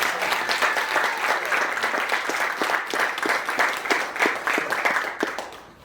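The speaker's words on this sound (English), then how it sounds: "Give me yourself a round of applause." A live podcast audience gives a round of applause at a 100th-episode show. The clapping is crisp, close and lively, holding steady for about five seconds before trailing off, with no talk over it.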